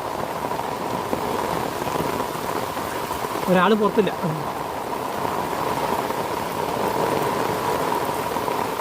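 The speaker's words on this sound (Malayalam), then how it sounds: "നല്ല മഴയാണ് കേട്ടോ" Heavy rain pours steadily in a dense hiss, with a voice speaking briefly in the middle over the downpour.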